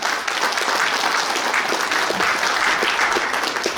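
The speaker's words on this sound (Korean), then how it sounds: "큰 박수 부탁드립니다" Steady, dense applause fills a union delegates' meeting hall, a broad even wash of many hands clapping at once, sustained without break and without speech.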